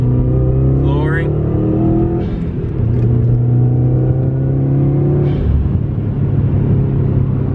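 A 2013-era Subaru WRX with a turbo boost problem, fixed by replacing old EVAP hoses, pulls hard at full throttle. Its engine drone climbs steadily in pitch, loud and close, with a brief dip midway before it rises again.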